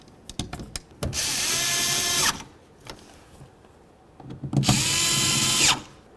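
Power tool driving screws into a 2006-12 Ford Fusion window regulator: a few brief clicks, then two sustained whirring bursts of about a second each, close and clear with quiet pauses between.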